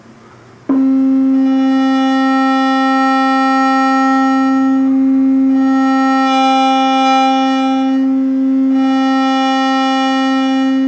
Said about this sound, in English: goes from a sine wave to a square wave.